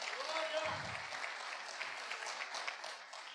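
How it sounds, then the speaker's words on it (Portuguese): Church congregation applauding during a sermon, a steady wash of clapping throughout with the pastor's voice heard over it near the start. "Pode aplaudir ao Senhor, foi para nós"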